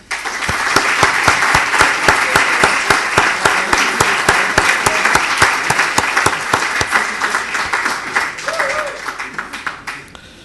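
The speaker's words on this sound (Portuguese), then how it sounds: "Para todos eu peço uma salva de palmas." Sustained audience applause at the closing ceremony of the 50th anniversary of GIS/ICS and the journal Análise Social, dense and steady for about ten seconds, with sharp individual claps standing out before it tapers off at the end.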